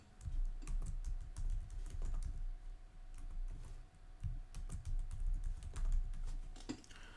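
A password being typed on a computer keyboard, producing a steady run of close, quick key clicks with brief pauses, alone and with no talking.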